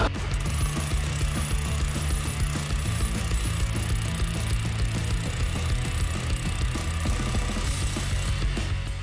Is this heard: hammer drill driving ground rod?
yes